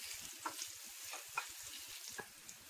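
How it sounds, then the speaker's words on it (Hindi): Four to five finely chopped garlic cloves frying in a pan, stirred lightly, a soft steady sizzle with a few faint scraping stir sounds, quiet and close with no talking. "फिर हम इसमें बारीक कटी हुई लहसुन 4 से 5 कली डालेंगे और हल्का सा जो है चलाएंगे"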